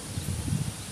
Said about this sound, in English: Thank you, Wind, for backing me up on that. And your trees singing.